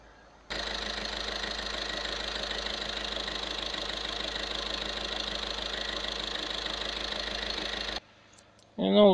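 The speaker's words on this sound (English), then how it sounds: "Now the engine is working fine, there is no more shaking." A Volkswagen Caddy 1.6 TDI diesel van engine idles steadily and evenly for several seconds with a faint mechanical clatter, no longer shaking after a fuel injector change, then cuts off; a brief voice is heard at the very end.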